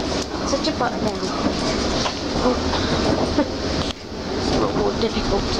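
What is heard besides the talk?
inside a moving train to Heathrow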